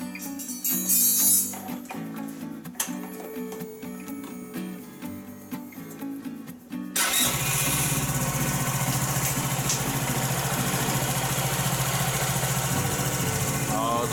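A PGO BON125 scooter, just back together after drivetrain and transmission-cover reassembly, fires up abruptly after quiet talking, then settles into a loud, steady, close idle that runs on unbroken.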